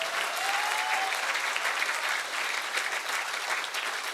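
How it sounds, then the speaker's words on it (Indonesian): Sustained applause from a crowd, many hands clapping steadily throughout at moderate volume. "Tepuk tangan."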